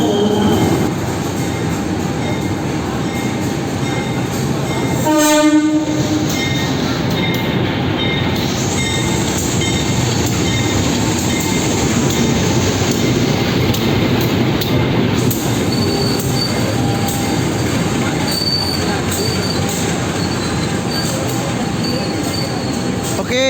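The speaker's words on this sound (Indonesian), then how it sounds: "yang telah masuk di jalur 2 stasiun Surabaya Gubeng adalah kereta api komuter lain penataran" A commuter train rumbles loudly into Surabaya Gubeng station in Indonesia, wheels grinding and squealing, with a horn-like tone blaring briefly and a long rising screech.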